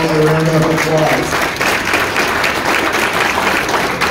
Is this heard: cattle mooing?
no